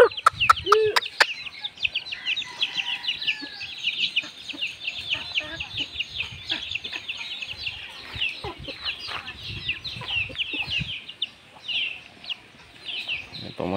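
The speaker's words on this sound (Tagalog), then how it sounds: "Maliliit pa yung mga native chicken. Manok Bisaya." Small native Bisaya chickens cluck and chirp steadily at close range on a farm, with dense overlapping calls throughout and a few sharper knocks near the start.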